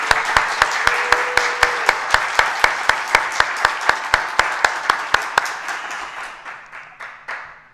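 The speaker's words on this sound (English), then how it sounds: "One last round of applause." An audience claps for science thesis competitors at a university event, sharp regular handclaps close and loud, slowing and thinning out toward the end.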